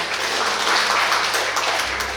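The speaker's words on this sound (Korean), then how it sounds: "여러분 박수로 환영해 주시기 바랍니다." Conference audience at an ICT forum applauding to welcome a presenter, a short burst of steady, fairly close clapping.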